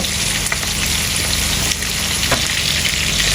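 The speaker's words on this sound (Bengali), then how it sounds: "আমাদের পেঁয়াজ ভাজা হয়ে গেছে" Onions sizzle steadily in a hot pan for chicken pulao, a dense continuous frying hiss with a few faint scrapes of a spoon, close and loud with no voices.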